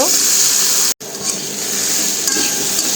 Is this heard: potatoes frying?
yes